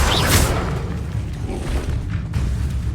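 A Bombarda spell in Hogwarts Legacy detonates with a loud, close boom and whooshing blast that lingers as a dense rumble for a few seconds.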